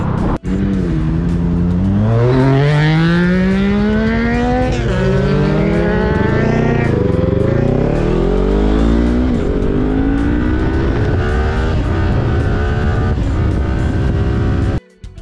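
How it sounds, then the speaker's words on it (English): Cars doing over 110 km/h rush past on a freeway just meters from motorcycles stopped on the shoulder. A loud, continuous engine roar swells and shifts pitch as the vehicles pass, then cuts off abruptly. "you've got cars doing 110k an hour plus mere meters away from you"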